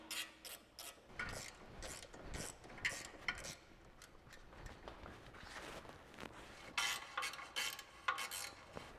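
Bolts on a brake dust shield being loosened with a ratchet during a Wilwood big brake kit install, quiet rapid clicking bursts with metallic handling clatter, close and soft.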